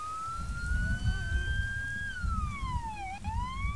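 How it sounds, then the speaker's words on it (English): A vehicle siren in the video game Arma III coming up a hill, a loud wailing tone that rises and falls steadily over a low rumbling engine, with no talk. "siren coming up the hill"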